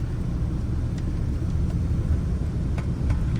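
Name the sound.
drive shaft shake from worn steady bearing, manual-swapped 2011 Crown Victoria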